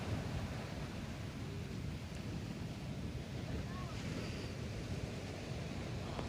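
Ocean waves at a damaged seawall in San Antonio, Zambales after a night of high surf, a steady low roar of surf mixed with heavy wind buffeting the microphone.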